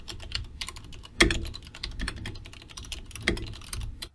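Rapid typing on a computer keyboard, a dense stream of close clattering keystrokes with a couple of heavier key strikes standing out.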